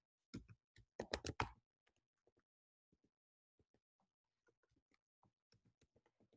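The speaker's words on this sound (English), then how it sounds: "I'll type it in" Someone types a web address on a computer keyboard, starting with a quick loud burst of keystrokes, then soft scattered taps at a distance, with no talking.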